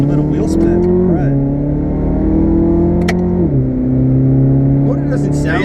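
A 2016 Chevrolet Camaro 2LT accelerates hard with a loud, steady engine drone that drops in pitch at two shift points, heard from inside the car while occupants talk over it.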